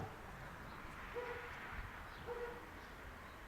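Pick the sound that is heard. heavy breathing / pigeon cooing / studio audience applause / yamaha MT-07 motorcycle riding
pigeon cooing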